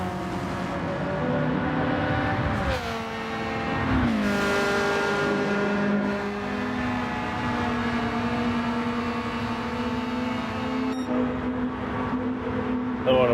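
A Toyota GRMN 86 race car in a racing video game drones steadily at high revs, with a sharp shift or burst midway and a sustained engine whine, fairly quiet and mostly alone.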